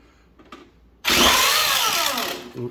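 A power tool sands the rough wheel arches of a 1/10 scale RC E30 M3 car body, whirring loudly and continuously from about one second in after faint handling noises.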